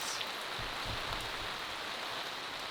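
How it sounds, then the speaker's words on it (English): Heavy rain pours down outdoors as a dense, continuous hiss of drops striking surfaces, steady and enveloping throughout, with a few faint low thumps underneath and no talking. "Oh, this is really raining."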